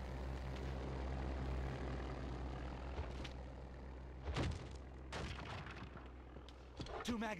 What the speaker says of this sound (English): Got the plane again.